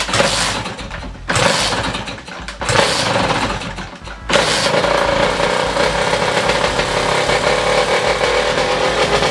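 An AM6 86cc moped engine sputters through a few short bursts before catching, then settles into a loud, continuous buzzing rev close by.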